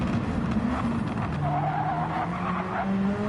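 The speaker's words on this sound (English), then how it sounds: "Hear those tyres squealing, waiting for the grip to come." Race car tyres squeal and skid under a continuous engine drone in Gran Turismo 7 at Dragon Trail Seaside, with rising and falling pitch as the car slides through a corner.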